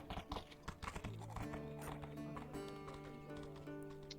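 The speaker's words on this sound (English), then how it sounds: "No, horse!" A horse charging at full speed by the sea, with quick clip-clop hoofbeats passing close. A sustained musical drone and tones play beneath the hooves.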